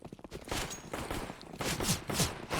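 Pistol fire in a Counter-Strike match on the Nuke map: sharp shots pop in an irregular string of separate reports at moderate distance, with footsteps and scuffs between them.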